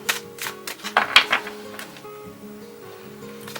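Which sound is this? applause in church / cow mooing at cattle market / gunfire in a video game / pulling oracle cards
pulling oracle cards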